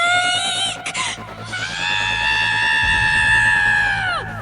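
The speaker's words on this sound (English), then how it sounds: "Then we heard a pained scream from Mom's tent." A woman's loud, drawn-out pained scream from inside a camping tent after a rattlesnake appears, rising sharply and sustained for several seconds before breaking off.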